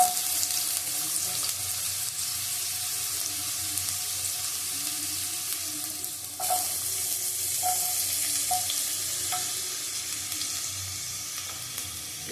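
Potato pieces fry in a pan for egg chowmein, giving a steady, close sizzle throughout with a few soft clinks partway through and no talking.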